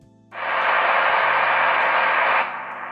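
Shortwave radio static from a Grundig receiver tuned to 7200 kHz in SSB mode, a loud broad hiss that switches on abruptly, holds steady for about two seconds, then drops to a quieter background hum.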